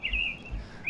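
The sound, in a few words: birds chirping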